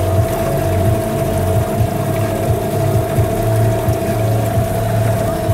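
An outboard motor on a boat drones steadily up close, a constant mechanical hum with a rhythmic low throb and no pauses.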